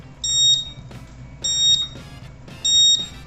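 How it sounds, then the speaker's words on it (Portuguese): Timer alarm on an electric stirring pot, three loud, high-pitched electronic beeps, each lasting about half a second, spaced evenly about a second apart. "quando chega no tempo que a gente configurou no timer, ela faz um barulho bem alto para avisar"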